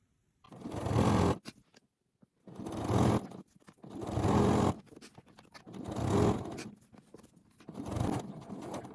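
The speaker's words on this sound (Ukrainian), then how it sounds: "Прокладу отак закріплюючу строчку пряму на машинці" A sewing machine stitches a straight reinforcing seam on a jumper in five steady bursts, each a second or so long, with brief quiet pauses between them.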